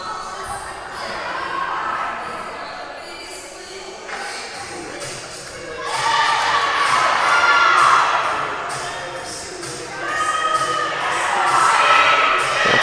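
Crowd cheering at a college volleyball match in Pulaski, Tennessee, as bursts of shouts and applause swell after quieter stretches, with squeaks and thuds from the court under the noise.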